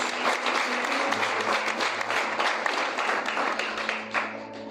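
Loud, dense applause from a large church congregation fills the space continuously, with many hands clapping together and no talking.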